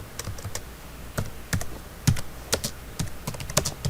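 Typing on a computer keyboard, with irregular light clicks and taps close by, some keystrokes louder and heavier than others, continuing steadily with no talk.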